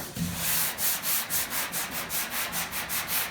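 Rhythmic back-and-forth sanding on a Chevy pickup truck body panel, steady abrasive strokes repeating at a quick, even pace, close by with no talking.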